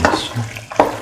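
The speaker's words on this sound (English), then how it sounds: "Thoroughly mix." Pasta is mixed into a lentil mixture in a pan, producing two brief close scraping stirs with a faint sizzle underneath.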